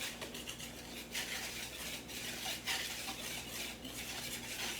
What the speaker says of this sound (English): just give this a good whisk to mix everything together